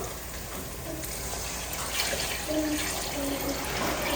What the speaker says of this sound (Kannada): ಇವಾಗ ನೀರು ಹಾಕ್ಕೊತಿದ್ದೀನಿ ನೀರನ್ನ ನಾನು ಎರಡೂವರೆ ಕಪ್ ಅಕ್ಕಿ ನೆನೆ ಹಾಕಿ ನಾಲ್ಕು ಕಪ್ ಹಾಕ್ಕೊತಿದ್ದೀನಿ ನೀರು